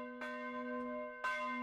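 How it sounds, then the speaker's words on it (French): A church bell is struck twice by an external hammer (tintons), each clear strike followed by a long, sustained ringing hum that carries between the blows. "Un marteau qui est en dehors de la cloche, qui frappe sur la cloche, les tintons."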